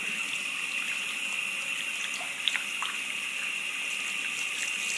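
Tap water runs steadily from a faucet into a sink, a constant close hiss with faint splashing and a couple of brief drip-like taps midway, heard alone without talk.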